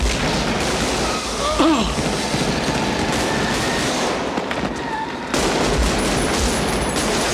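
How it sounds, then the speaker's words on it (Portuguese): Gunfire in the action film Tears of the Sun, heard as dense rattling shots and reverberating noise that run continuously through the scene at fairly high volume. "O som das armas, a forma como ele coloca os tiros, como ele reverbera no ambiente, é muito, muito real."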